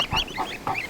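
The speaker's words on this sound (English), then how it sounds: "They're not chicks. They're goslings." Baby goslings give a quick series of three or four thin, high honking peeps, close and clear, each call short and rising.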